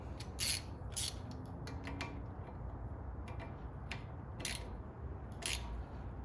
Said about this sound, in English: go ahead and tighten the banjo bolt